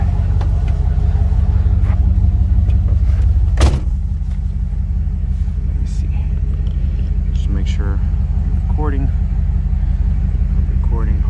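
Dodge Ramcharger cruising along Mission Blvd in Hayward, California, with a steady low engine and road rumble heard from inside the cab and a short sharp knock partway through.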